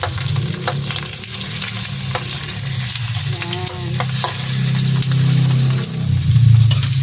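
Tinapa, smoked fish, frying in a pan, a loud, dense sizzle with crackling and spattering bursts, broken by occasional clicks and scrapes of a utensil.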